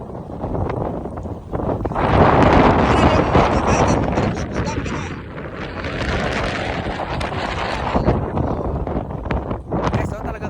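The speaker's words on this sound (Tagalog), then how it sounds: "Guys, so talagang malakas ang hangin." Strong wind roars and buffets the microphone in heavy, continuous gusts, rising and falling, with voices faintly underneath.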